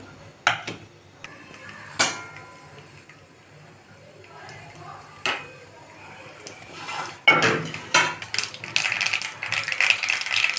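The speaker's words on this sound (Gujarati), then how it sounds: "હવે આપણે એમાં રઈ એડ કરવાની છે રઈને સતળવા દેવાની છે" Mustard seeds spluttering in hot oil in a pan while tempering dal for dal baati give scattered sharp clicks and clatters, then a denser run of crackling pops near the end, with a voice talking faintly underneath.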